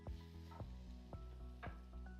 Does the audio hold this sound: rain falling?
no